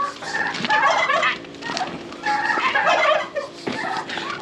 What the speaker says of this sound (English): Turkeys are still here, being loud.